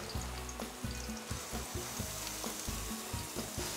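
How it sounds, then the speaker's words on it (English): Diced vegetables and chili peppers sweat in olive oil in a pan: a steady, close sizzle with soft rhythmic stirring knocks running underneath. "Not to caramelize the veggies, but just to sweat them. And I'm gonna add all my veggies."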